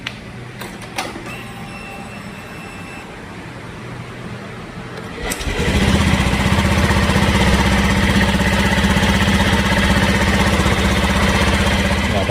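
An automatic motor scooter fitted with an aftermarket ignition coil and spark plug cap sits quiet with a few faint clicks, then its engine starts about halfway through and settles into a steady, close idle.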